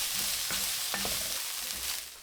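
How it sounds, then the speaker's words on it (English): Meatball stuffing with spring onion being stir-fried in a hot pan, a steady broad sizzle with a few soft scraping stirs, close and fairly quiet, no voices. "Add the spring onion, briefly stir and turn off the heat."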